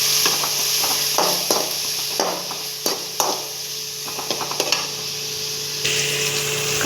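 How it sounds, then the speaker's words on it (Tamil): Onions and tomatoes sautéing in a pan for goat liver gravy, with a steady sizzle under repeated scraping and stirring strokes from a utensil, close and fairly loud. "ஸோ இப்போ இந்த வெங்காயம், தக்காளி இதெல்லாம் நல்லா வணக்கலாம்."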